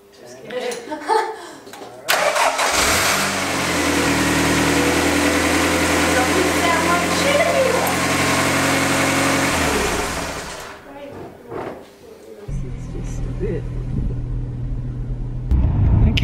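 A Toyota Camry's newly installed engine starts and settles into a steady, loud rumbling idle for several seconds, then cuts off; brief voices and clatter before and after.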